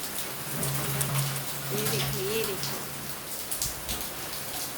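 Heavy rain pours down outdoors in a steady, loud hiss. A brief spoken remark is heard over the downpour.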